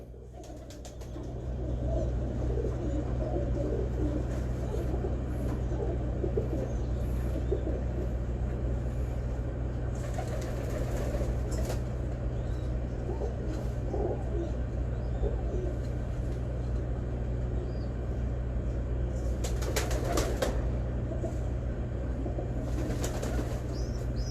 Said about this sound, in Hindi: एक हाथ में मैंने कबूतर पकड़ लिया